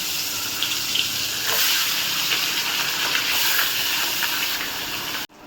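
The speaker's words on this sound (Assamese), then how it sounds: "এই মাছ ভাজা হ'বই আৰু এতিয়া।" Loud, steady hissing sizzle of fish frying in hot oil in a kadai, close up, holding constant before cutting off abruptly at the end.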